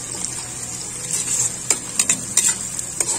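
Ginger sautéing in a pan for squid adobo gives a bright, steady sizzle, with several crisp scrapes and clicks from stirring close by.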